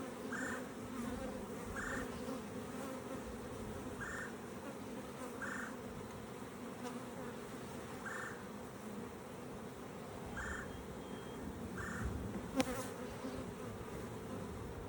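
Honey bees buzz steadily around an open beehive during an inspection, a dense continuous hum close by with faint, regularly recurring higher tones above it and a brief click near the end.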